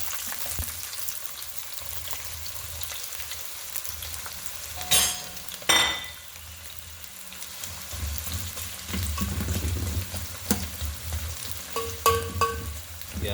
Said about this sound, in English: first step, we're gonna be going ahead and putting in our onions